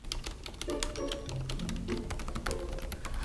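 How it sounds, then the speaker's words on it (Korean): Fingers type steadily on a custom mechanical keyboard with lubricated switches, a close run of soft, rapid, muted keystrokes with a few louder taps, under faint background music. "스위치에 기름을 발라 부드러운 타건감과 타건음을 내기도 하고요."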